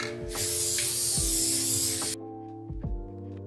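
An aerosol can sprays adhesive glue in a light coat for car interior cloth, a loud, close hiss lasting about two seconds before cutting off abruptly, followed by faint handling clicks and thumps.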